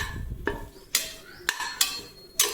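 Whole spices stirred in hot oil in a pan for a veg biryani: a few sharp metallic scrapes and clinks of a spoon against the pan, spaced out over a faint low sizzle, close and fairly quiet.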